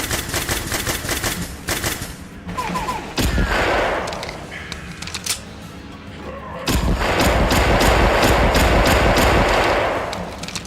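Rapid bursts of enemy gunfire in a video game, loud automatic rattling shots in dense clusters with a sustained noisy stretch near the end.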